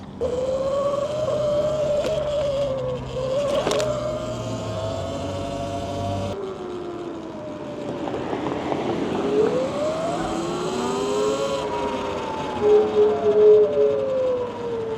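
An E-Ride Pro SS electric motorbike in sport mode accelerates with a rising, whining motor tone that climbs and falls in pitch, steady and fairly close, with wind noise and no talking.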